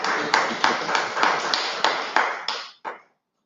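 Audience applause after a presentation at a conference session, about eight evenly spaced loud claps followed by a short pause and one final clap, close and clear, with no talk over it.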